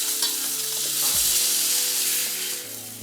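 Salmon searing in a hot pan, a broad continuous sizzle with a few utensil scrapes and knocks, close and fairly loud, easing slightly toward the end.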